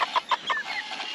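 Several short, soft clucks from a chicken close by, quick and a little uneven, over faint background noise.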